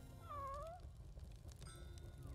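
A cat in the video game Spelunky 2 gives a single drawn-out meow, clear and moderately loud, over a steady low rumble of game background sound.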